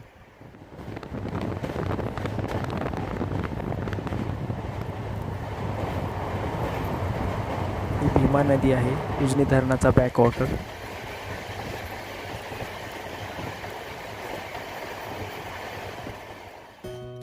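Moving train on the Pune to Jeur line, a steady loud rumble and wind roar throughout, with clattering bursts near the middle as a person talks over it.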